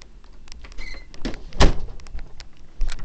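A bus door thumps shut once, a short sharp knock standing out over faint background rumble and scattered clicks.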